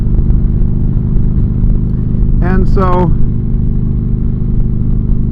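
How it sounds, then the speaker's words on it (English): A Harley-Davidson motorcycle fitted with a Python exhaust idles with a deep, steady, close rumble that runs the whole time, and someone speaks briefly partway through. "This one I really loved the sound of it with the Python exhaust on it."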